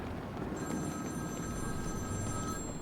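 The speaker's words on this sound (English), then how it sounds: "Ringing phone now?" A telephone rings in Batman: Arkham City, a thin electronic tone held steadily over a low game ambience, faint and continuous, with no talking.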